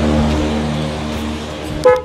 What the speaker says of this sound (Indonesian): Ini klakson juga udah gue ganti Denso